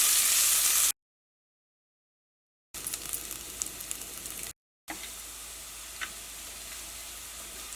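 Onions sauté in coconut oil in a clay pot for an ash gourd curry, a soft, even sizzle with faint stirring clicks, interrupted by two short silences.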